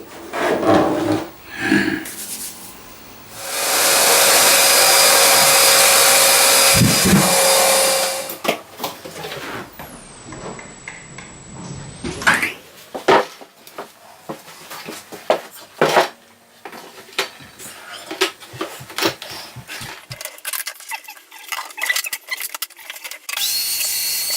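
A vacuum cleaner running through a DIY dust cyclone roars steadily for several seconds at close range, then cuts off, followed by scattered knocks, clatters and handling noises.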